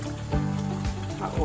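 Hot water pours and trickles into a pot of Jamaican curry goat, a short close gurgling splash heard under a woman's speech.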